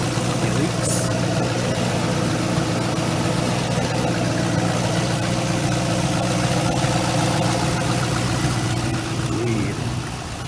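An LS1 V8 swapped into a Dodge Stealth idles steadily and loudly up close, a constant rumbling drone with no revving for the whole stretch.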